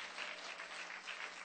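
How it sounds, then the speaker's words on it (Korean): Audience applause in a church service, steady, even clapping from a modest group, heard as a faint, continuous patter at a distance without voices. "소망 없는 청년들만 박수치네"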